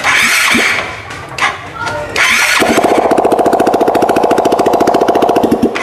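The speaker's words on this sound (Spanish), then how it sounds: "vamos a prender ahora, suena el motor" A motorcycle engine being started after a loose-wire electrical fault was fixed, with a cranking attempt, then catching and idling with a fast steady putter; a person speaks briefly before it fires.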